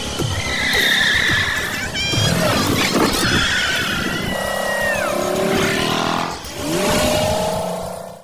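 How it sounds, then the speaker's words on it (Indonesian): A Wuling car is pushed hard on an extreme track, with loud engine revving, squealing tyres and screeching slides layered together in a busy, continuous mix that fades near the end. "Sen langsung menggeber mobilnya melalui rute yang lebih ekstrim."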